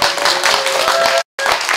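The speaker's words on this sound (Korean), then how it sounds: "시장한테 박수를 부탁드립니다." A short burst of dense clapping from an audience at a political forum on the Baekhyeon MICE project in Bundang, Seongnam, filling the room steadily, then briefly cutting out before resuming.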